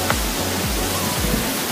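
Water pours steadily down the twin falls of Coban Putri waterfall, a loud, unbroken roar that fills the whole clip without any voices.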